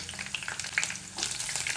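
Mustard seeds, cumin and urad dal frying in hot oil for a tempering, a close, busy sizzle with rapid crackling pops throughout, no talking.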